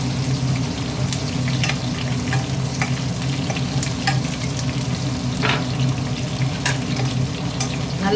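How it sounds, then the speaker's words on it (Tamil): Onions sauté in a pan with a steady, close, even sizzle, broken by brief scraping stirs; no one speaks. "வெங்காயம் வதங்கிடுச்சு"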